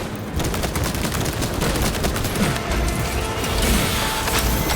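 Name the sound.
gunfire in video game Warhammer 40k Space Marine 2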